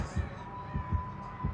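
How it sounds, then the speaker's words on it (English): Heartbeat warning cue in a multiplayer horror game as Chucky draws near, three deep, thudding double beats pulsing steadily under a faint hum. "I got a really, really strong heartbeat"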